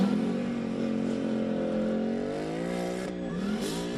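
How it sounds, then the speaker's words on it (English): A Ford Mustang V8 engine in The Grand Tour Game video game revs with a deep, rising growl, holding high and steady before dipping briefly and climbing again, loud and close. "The sound of that Mustang."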